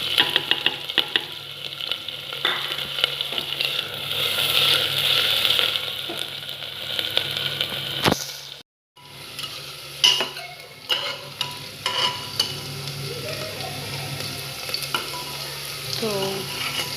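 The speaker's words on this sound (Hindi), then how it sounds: "और अब इसी में ऐड कर लेते हैं हरी मिर्च।" Green chilies frying and being stirred in a pan of garlic while making chicken curry, giving a steady sizzle with scraping spoon strokes, a brief pause midway, then more clattering stirs up close.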